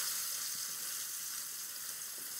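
Chopped onion fries in a pan with a steady, even sizzle that stays constant and close, with no other sounds over it.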